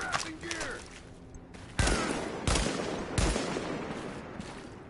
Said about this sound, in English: Shooting through the wall, exactly my point.